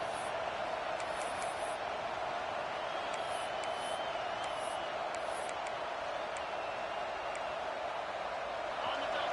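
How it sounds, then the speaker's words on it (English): A steady, roaring stadium crowd in a college football video game, Michigan versus FSU, fills the background, a dense wash of distant voices with faint sharp whistles and shouts rising now and then during a red zone defensive stand. "This crowd is trying to inspire this defense to make a big red zone stop"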